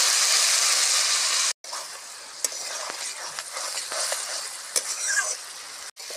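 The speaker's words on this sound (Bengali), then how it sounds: "সামান্য একটু জল দিয়ে ভালো করে কষিয়ে নেব।" Fig curry with potato sautéing in a pan with a little water hisses and sizzles steadily, broken by scraping stirs and two brief silent gaps.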